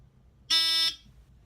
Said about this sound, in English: that's the trouble silence to silence the buzzer